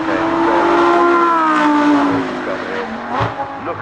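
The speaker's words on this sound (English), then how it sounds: "This though from Lamborghini Spider making its way up the hill." A rear-drive Lamborghini Huracan Evo Spyder climbs the hill at the Goodwood Festival of Speed, its V10 giving a loud, close, harmonic wail that sustains and then drops slightly in pitch as it pulls away.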